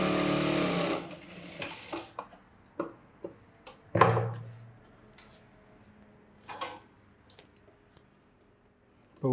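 Sewing machine working on a boat neck blouse: a short run of stitching at the start, then scattered clicks and brief mechanical bursts separated by quiet gaps.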